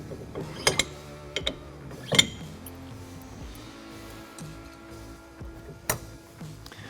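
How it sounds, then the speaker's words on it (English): Metal hitch pins and clips being pulled and adjusted on a B&W Tow & Stow ball mount, a handful of sharp clinks and clacks over a quiet mechanical background. "then we're going to pull our clips on the back pins and pull our pins, adjust to the ball height we need"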